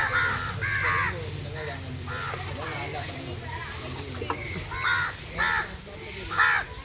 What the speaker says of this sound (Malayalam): ഗൈസ് ഇവിടെ കുറേ കാക്ക വന്നിട്ടുണ്ട്